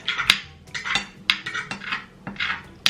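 A child scrapes and taps a fork on a plate during a fish meal, producing a run of small irregular clinks and scratches at close range, with no talk over them.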